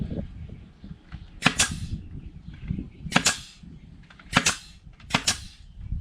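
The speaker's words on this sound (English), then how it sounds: "I'm going to go ahead and shoot some staples into it." Staple gun firing staples into the wood of a raised garden bed: four sharp, loud snapping shots spaced about a second or two apart over quiet background.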